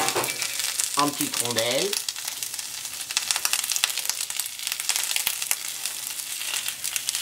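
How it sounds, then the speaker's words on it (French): Zucchini cut into small rounds sizzle and crackle steadily on a hot plancha, a dense frying hiss throughout with someone speaking briefly near the start. "Donc d'un côté, je vais mettre les courgettes à cuire."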